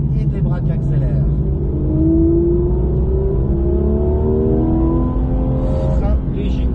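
A Porsche GT3 RS engine roars and climbs in pitch as it accelerates hard on the Saintonge circuit, the revs rising steadily before easing near the end.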